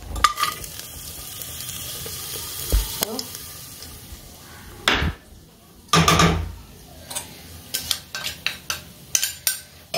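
Rice fries in ghee inside a pressure cooker while a utensil stirs and scrapes against the metal pot; soft sizzling runs underneath, broken by clinks and scraping bursts that grow quicker toward the end.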